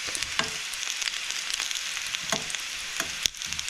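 Potatoes fry in a non-stick pan, giving a steady, fairly quiet sizzle with scattered pops and crackles throughout and no talking.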